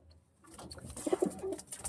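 Malwai pigeons kept in a cage, giving soft, low throaty coos in a short rising cluster, close and quiet, with no voices.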